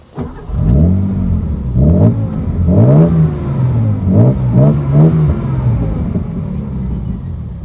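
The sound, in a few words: Datsun 240Z engine revving, heard from the rear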